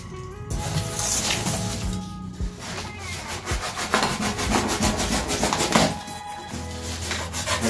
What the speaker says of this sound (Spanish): Le vamos a dar la mayor forma posible directamente con el cúter.